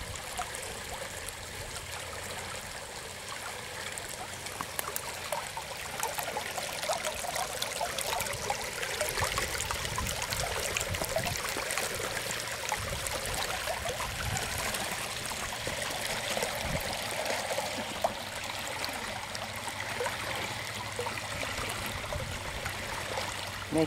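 Water flows steadily in a figure-eight rhythm through a flowform cascade in a garden, a continuous trickling and splashing rush close by, even and unbroken without talk.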